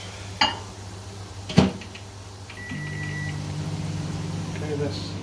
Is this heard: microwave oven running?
yes